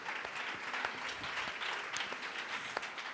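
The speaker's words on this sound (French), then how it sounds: "applaudissez-la parce qu'elle a fait quelque chose d'extraordinaire" An audience applauds at a women's business awards ceremony, steady clapping with scattered sharper individual claps, fairly quiet and continuous for a few seconds.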